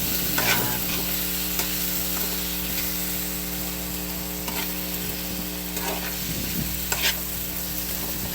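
Tomatoes sauté in a pan before galunggong fish is added, with a steady close frying hiss broken by scattered scraping and stirring clicks of a spatula against the pan.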